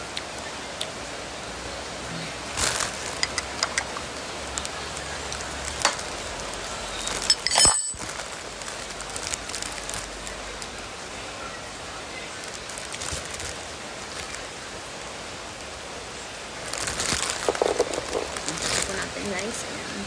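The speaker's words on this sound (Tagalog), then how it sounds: "saktong bumuhos yung malakas na ulan" Heavy afternoon rain pours steadily in Dagupan, a continuous broadband hiss that holds throughout, with a few louder swells and people talking intermittently over it.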